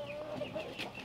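Five-month-old chickens squabbling in a coop, a short burst of agitated clucks and squawks close by, with a rooster among the flock.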